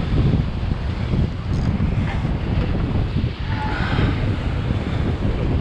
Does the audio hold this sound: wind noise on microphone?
yes